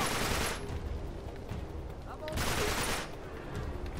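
Video-game gunfire from Uncharted 3, with two loud bursts of rapid shots and scattered bullet impacts between them.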